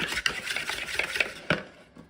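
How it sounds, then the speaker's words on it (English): A pastry blender works flour and salt together in a bowl for a pumpkin pie crust, giving a run of close, rhythmic scraping and chopping strokes with a few sharper knocks against the bowl. "Now I'm just going to mix this together with my pastry blender."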